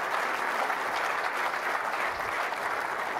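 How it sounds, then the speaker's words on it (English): Steady, sustained applause from a seated audience at a golf industry symposium, dense and continuous clapping filling the room for the full stretch without a break. "we can give them a round of applause"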